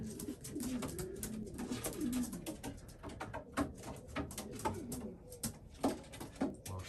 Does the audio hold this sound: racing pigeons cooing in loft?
yes